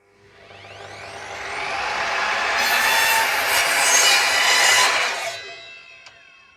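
Evolution F255SMS sliding mitre saw cutting a small piece of timber: the motor spins up with a rising whine, grinds loudly through the wood, then winds down as the blade coasts to a stop, close and alone.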